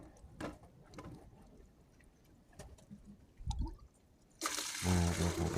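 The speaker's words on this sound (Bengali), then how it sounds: "আর এক বালতি ঢালি" A bucket of water tipped over the body while bathing: a quiet stretch with faint scattered drips and knocks, then a sudden loud, close rushing splash filling the final second.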